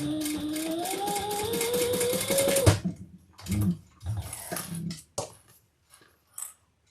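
A sewing machine runs in a steady continuous burst, basting D-rings and swivel clasps onto a bag lining, then stops and gives way to a few short handling bumps and rustles.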